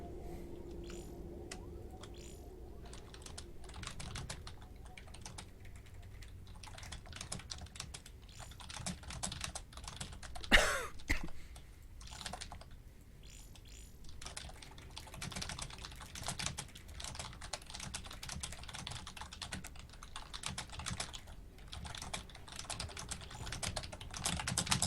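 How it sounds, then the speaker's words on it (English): Steady typing on a computer keyboard, close and fairly quiet, with rapid clattering keystrokes in bursts and one sharper louder tap midway through. "Typing."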